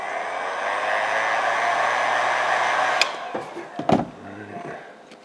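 A heat gun blows with a steady, airy roar for about three seconds, warming vinyl wrap onto a tile corner, then cuts off, leaving a few handling knocks and rustles.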